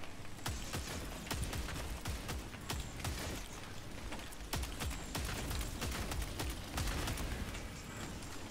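Rapid, steady gunfire from a weapon being tested in a video game, a continuous stream of sharp shots at an even rhythm, fairly faint and mid-distance, with no talking.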